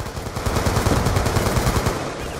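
Shotgun blasts in a shooter video game fire in a dense, loud rapid burst, overlapping booms running almost continuously with no talk.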